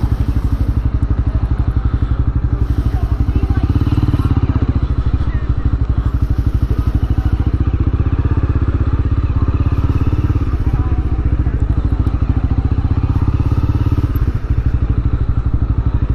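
A motorcycle rolls slowly through a town square at idle, around 4 mph, its loud close engine putting out a steady rapid putter with light clatter and faint wind throughout.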